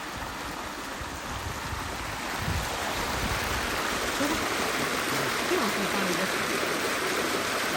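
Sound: water flowing through farm field irrigation

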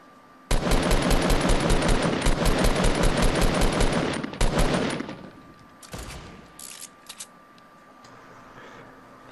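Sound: gunfire in Fortnite video game

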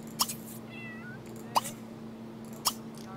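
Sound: cat meowing in video game The Sims 3

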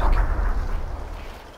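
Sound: grenade explosions in the video game PUBG

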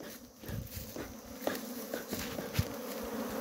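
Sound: honey bees buzzing during a bee swarm rescue

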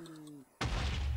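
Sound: delayed explosion in the video game Minecraft

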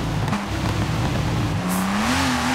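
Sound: Porsche boxer engine car in video game Forza Horizon 4

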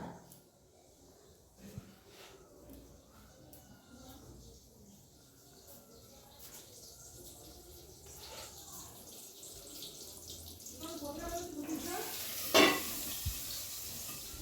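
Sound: water being poured into a cooking pot

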